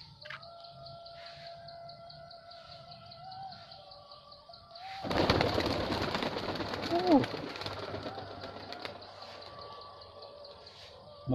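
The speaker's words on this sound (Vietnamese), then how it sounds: "Hôm nay mình đi chăn bồ câu." Pigeons feeding on freshly harvested rice in the open, with faint chirps and calls, then a loud burst of flapping wings as the flock takes off, over steady outdoor background noise.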